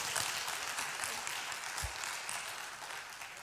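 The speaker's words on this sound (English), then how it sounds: "So let's give Stephanie a round of applause." An audience at a finance teaching session gives a round of applause for a participant, a continuous spread of many hands clapping that gradually thins out toward the end.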